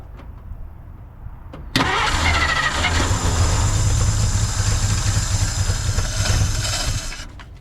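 A 1950 Dodge Meadowbrook with a leaking carburetor cranks and fires after a quiet moment, then runs loudly with a rough, steady engine roar for several seconds before cutting off near the end.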